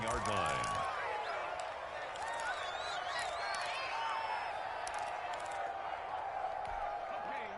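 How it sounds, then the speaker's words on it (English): Stadium crowd noise from an American football video game, Chiefs versus Raiders, a steady roar with scattered whoops and cheers running the whole time beneath commentator talk. "The crowd may be losing just a little bit of the edge after back-to-back punts"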